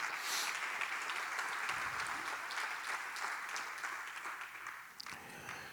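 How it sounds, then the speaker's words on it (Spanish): A church congregation applauds during a Spanish-language sermon, heard as a steady wash of many hands clapping together. The clapping sounds somewhat distant and holds a fairly even level throughout. "Aplaude el nombre de Dios"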